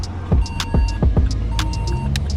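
A Vauxhall Corsa 1.3 CDTI diesel car pulls out and drives off, its engine note rising in a few quick revving sweeps over a steady low rumble, close and fairly loud, with faint clicks and ticks on top.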